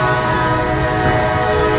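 A train horn blows steadily for the whole stretch, loud and close, with rail rumble beneath and no voices.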